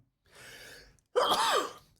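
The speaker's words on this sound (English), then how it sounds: "It's the first time I ever sneezed on camera." A single close sneeze: a soft drawn-in breath, a short pause, then a sharp explosive burst.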